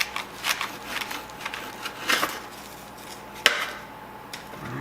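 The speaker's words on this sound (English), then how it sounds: "I'm using a serrated bread knife, so we're just gonna want to cut it like this." A serrated bread knife saws through a peanut butter biscotti loaf, giving a series of dry, crackly rasping strokes at close range, with a few sharper scrapes against the board and no talk.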